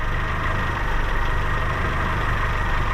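The small petrol engine of a Peugeot 205 runs loud and close, a steady droning roar with rich low rumble that holds an even pitch throughout rather than clearly climbing, with no talking.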